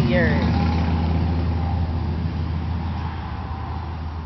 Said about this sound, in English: They're watching the cars.